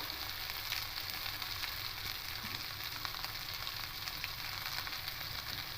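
Potatoes and bitter gourd fry lightly in a pan with a steady, soft crackling sizzle, faint and continuous with no voices.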